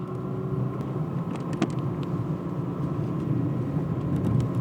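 An old car with an automatic transmission, shifted manually by a machine, drives along with a steady low engine drone and road rumble, moderately loud throughout with a brief click near the middle.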